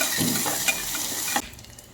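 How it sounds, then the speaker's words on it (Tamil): Mustard seeds, curry leaves and onion sauté in a pan with a busy, crackling sizzle and a few stirring scrapes, then the sound drops away abruptly to near quiet. "கடுகு, கருவேப்பிலை அண்ட் பெரிய வெங்காயம் எல்லாம் ஆட் பண்ணி லைட்டாக வதக்கிக்கிறேன்"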